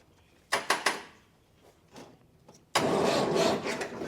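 An old abandoned crane's engine cranks in a few short bursts, pauses with faint knocks, then catches and roars into a loud, steady run close by.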